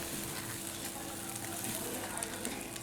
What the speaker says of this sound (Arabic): ندي التقليبه الحلوه للرز